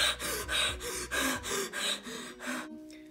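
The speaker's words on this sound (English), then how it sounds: "Breathing accelerates." Rapid, panicked breathing from fear, a run of about seven quick, loud gasping inhales and exhales in steady rhythm, close up, then fading out.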